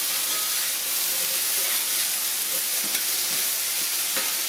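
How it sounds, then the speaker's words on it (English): Okra searing in a hot pan with no batter, a loud, dense, continuous sizzle and hiss with faint scrapes of tossing, no talking. "Now as it starts to heat up more on the pan and your okra starts getting hot, you need to start tossing it."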